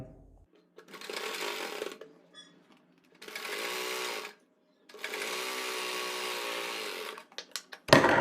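A sewing machine stitches elastic on a palazzo in three bursts of steady whirring, close and clear with short pauses between runs, ending in a few clicks and handling sounds.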